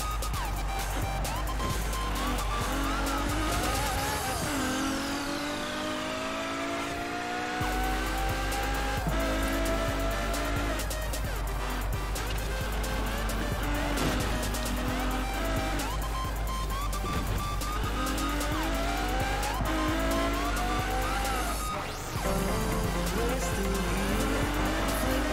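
A car in the racing game Forza Horizon 4 drives hard, its engine droning and revving steadily throughout, with repeated tire squeals as it slides through corners, loud and continuous for the whole stretch.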